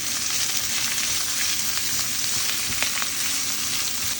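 Chopped onion hits hot oil in a pan of frying long beans and is stirred through, giving a steady close sizzle with scraping stirs throughout.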